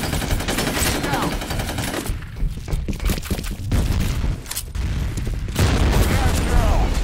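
Video game combat with a grenade explosion amid loud, continuous gunfire and deep booms, dense and close, with shouted voices mixed in.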